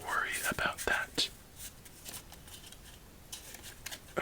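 A deck of cards is riffle shuffled: a quick papery flutter of cards, then a few soft taps and rustles, close and quiet under a faint whispery hiss.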